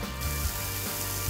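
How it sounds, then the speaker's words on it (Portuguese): Shrimp sizzle in olive oil in a hot pan for paella, a steady close frying hiss with a faint low hum beneath it. "Coloquei o azeite de oliva na minha panela já aquecida e vamos colocar os camarões."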